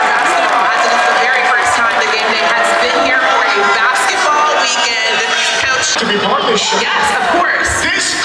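A dense, loud crowd at a college game day basketball game, with continuous overlapping chatter, shouts and whoops filling the space throughout.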